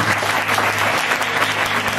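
A church congregation applauding to acclaim Jesus, with dense, continuous clapping from many hands close by and a faint murmur of voices underneath throughout.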